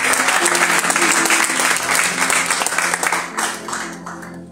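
Congregation in a church service claps together loudly for a few seconds, a dense roomful of hands that tapers off as a low sustained tone lingers beneath.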